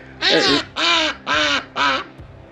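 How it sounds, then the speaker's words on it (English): A duck quacks four times in a steady series of loud, close, raspy calls, each about a third of a second long, with short pauses between them and no talking. "apparently the duck wanted to say something"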